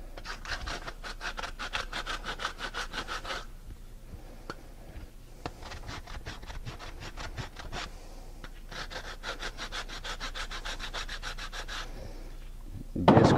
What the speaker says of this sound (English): Now I'm going to use something called the drywall scrubber. I'm going to clean the edges up.